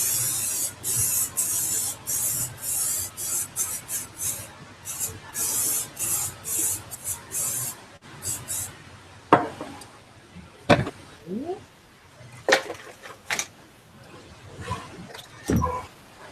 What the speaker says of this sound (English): we'll also blast it with air